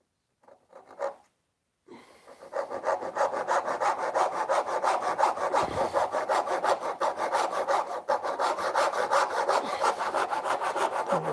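A handsaw cuts through wood for a shelf bracket in steady, rapid back-and-forth strokes, close and clear with no talking, after a few brief scrapes as the cut starts.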